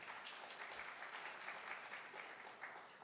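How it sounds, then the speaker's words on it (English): A debate audience claps for an introduced city councilor, a faint, steady patter of hands throughout, distant and even. "You can clap for that one."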